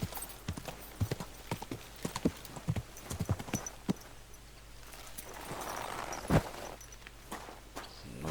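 Horse hooves clip-clopping at a walk in the game Kingdom Come Deliverance 2, with a steady run of close, distinct clops that thin out partway through, then a single sharp hit near the end.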